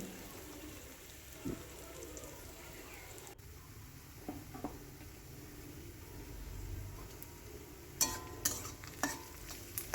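Greens frying in a pan of oil, a low steady sizzle with scattered spoon scrapes and stirring clatter, growing busier with sharp clinks near the end.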